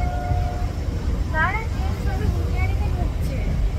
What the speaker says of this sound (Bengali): তো বন্ধুরা উঠে পড়েছি ট্রেনে